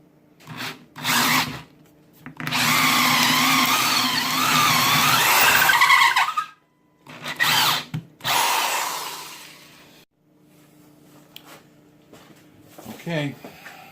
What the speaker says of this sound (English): I'm trying to put the point of the auger smack dab in the middle there.